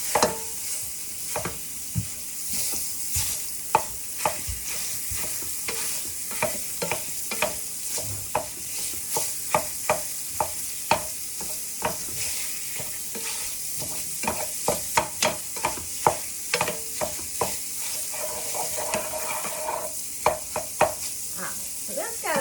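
Sausage meat squeezed from its casing sizzles steadily in a hot frying pan while a utensil scrapes and breaks it up, with frequent sharp clacks and scrapes over the continuous frying hiss, close and moderately loud.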